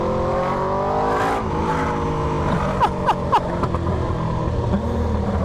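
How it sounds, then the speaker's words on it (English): A motorcycle fitted with an SC GP22 exhaust revs loudly between parked cars, a steady rumbling drone broken by a few sharp crackling pops that echo off the surroundings. "The echo in between the cars with the pops."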